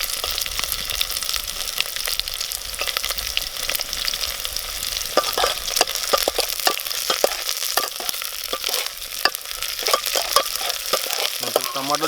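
Chopped green chilli, onion and tomato frying in hot oil in a village kitchen, a steady close sizzle with stirring scrapes and clicks throughout, no talking.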